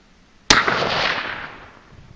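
A single sharp .308 rifle shot firing a Speer 168-grain bullet cracks out loud and close, then its echo rolls away and fades over about a second and a half.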